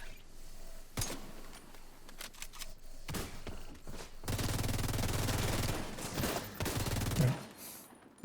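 Gunfire in a video game: scattered single shots early on, then a sustained loud rattling volley for a few seconds before it cuts off, with quieter game sounds between.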